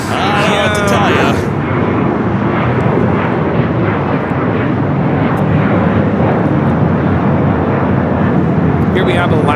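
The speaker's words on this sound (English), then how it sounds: "Here we have Alaska Airlines 1315 taking off to Portland on the 737-900ER." An Alaska Airlines Boeing 737-900ER takes off for Portland from LAX, its jet engines producing a loud, continuous roar close by, with brief higher whines at the start and end.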